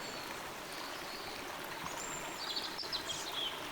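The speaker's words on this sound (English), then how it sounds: "noticing the flow of the creek behind you, the chirping of the birds in the trees" Creek flowing steadily behind the listener in a wooded outdoor setting, a constant soft rushing wash with a few faint bird chirps emerging near the end.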